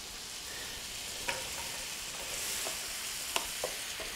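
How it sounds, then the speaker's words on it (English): Sliced baby bella mushrooms cooking in a skillet, a steady soft sizzle with a few sharp utensil taps against the pan, no voices. "we're going to let the sliced mushrooms cook just until they soften and color a little bit"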